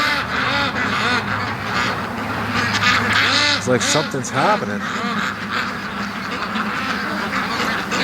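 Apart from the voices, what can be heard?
ducks quacking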